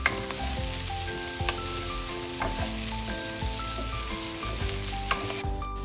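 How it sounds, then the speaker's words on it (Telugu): Broad beans (chikkudukaya) fry in a pan with a steady, close sizzle throughout, broken by occasional sharp clinks and scrapes of stirring. "ఇప్పుడు 2 నిమిషాల పాటు ఫ్రై చేసుకోవాలి"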